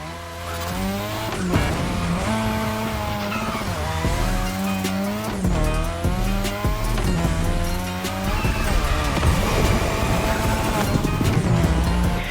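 Game car drifting around the drift track in The Crew Motorfest, its engine revving and wavering continuously while tires squeal through long slides, loud and steady for the whole stretch with no talking.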